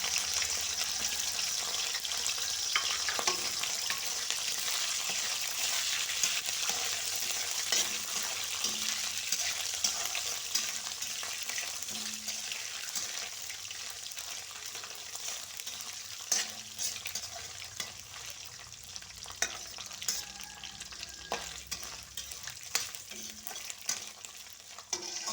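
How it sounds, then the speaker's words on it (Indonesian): Anchovies (teri) frying in hot oil in a home kitchen, a steady close sizzle with scattered crackles and pops and occasional stirring clatter, no talk over it. "Oke, ini minyaknya udah panas, bunda goreng dulu untuk terinya ya"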